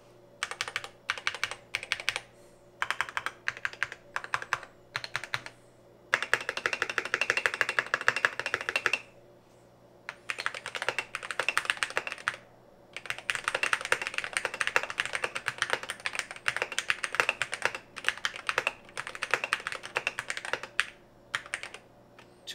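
Typing on a DrunkDeer A75 mechanical keyboard with an aluminum plate in its default configuration, dense loud clacking in bursts of rapid keystrokes separated by short pauses, close and alone without voices.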